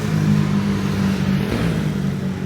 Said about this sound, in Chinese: 看这摩托车开多快！